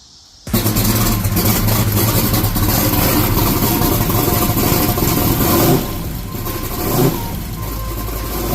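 A 2000-horsepower Cadillac V8 in a drag car fires up abruptly and runs loud and steady, a dense idle rumble close by, easing slightly lower near the end with a brief rev bump.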